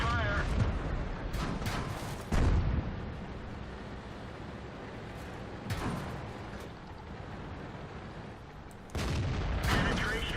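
Tank main guns in a World of Tanks battle, heard as several loud, heavy booms a few seconds apart, each with a sharp attack and a rumbling tail over a constant low engine and battle din.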